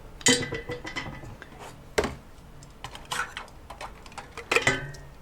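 A metal lid is screwed onto a glass jar of marinated tomatoes with raspberry leaves, giving a handful of close, sharp clinks and short scrapes with quiet gaps between them.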